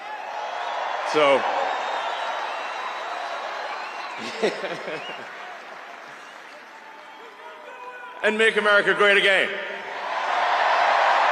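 A large political rally crowd cheers, whoops and applauds in a sustained roar, loudest in a burst near the end, beneath someone speaking into an amplified microphone.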